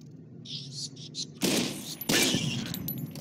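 Gunfire in Fallout New Vegas: two sudden loud bursts of rapid shots, each followed by a noisy rattling tail, after a quieter stretch of high chirping tones.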